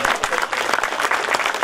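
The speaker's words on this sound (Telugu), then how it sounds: "బాగుంటే చప్పట్లు కొట్టండి." An audience at a Telugu cinema 105th birthday celebration breaks into steady, dense clapping that fills the whole moment, loud and close with a faint crowd murmur.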